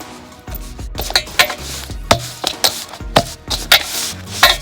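Coriander being chopped for chutney with a knife on a board: a loud, close, uneven run of sharp chops, some in quick pairs, with brief pauses between bursts and no talk.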